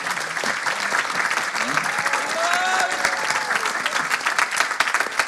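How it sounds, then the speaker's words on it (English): Audience applause at a Bhakti Marga devotional gathering on Janabai and her saintly peers, dense clapping with some louder individual claps near the end, voices and a faint sung or called tone mixed under the crowd. "Again, a big applause to all of them."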